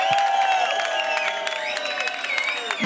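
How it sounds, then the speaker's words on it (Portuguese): Concert audience at a Brazilian music show applauding and cheering, a steady wash of clapping and crowd noise with sharp whoops and whistles rising above it throughout. "Vamos aplaudir a Mariana."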